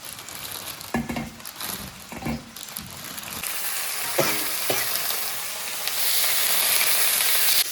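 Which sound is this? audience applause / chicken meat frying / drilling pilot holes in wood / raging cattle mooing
chicken meat frying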